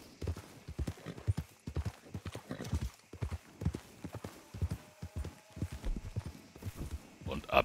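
Horse hooves clip-clop steadily on ground in Red Dead Redemption 2, a quiet continuous rhythm of hoofbeats with occasional short pauses, faint and close.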